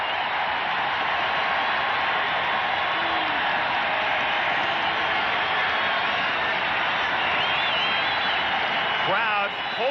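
Large baseball stadium crowd at a 1987 World Series game, Twins at Cardinals, a steady loud roar of cheering and whistles filling the air throughout, swelling slightly near the end as fans hope for a strikeout.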